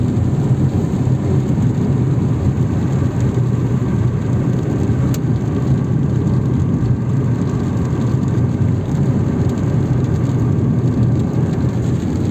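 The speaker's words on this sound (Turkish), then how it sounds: "Bir haftadır yağmur yağıyor." Steady, dense rain falls continuously without letup, a broad even wash of hiss and patter with no voices.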